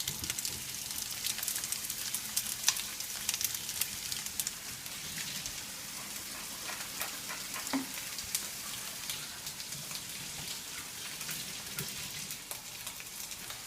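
Sausage meat sizzles and crackles steadily in a hot pan, a dense, even frying hiss lasting throughout with occasional faint scrapes and stirring, no talking over it.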